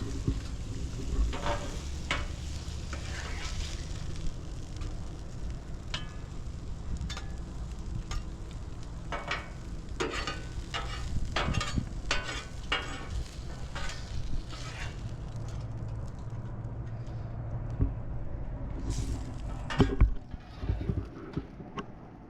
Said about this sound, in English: Then we're going to lay down a layer of sausage.